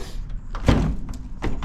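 The rear-hinged suicide door of a Zastava 750 swings open in a barn, a loud close clunk of the latch and hinge followed by rattling and a second creak or thud, with no voices.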